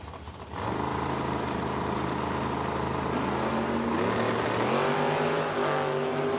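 An Oldsmobile Cutlass and a dragster launch down a drag strip at Edmonton, engines blasting into a loud sustained roar with pitch climbing through the run and a gear change partway, heard from trackside.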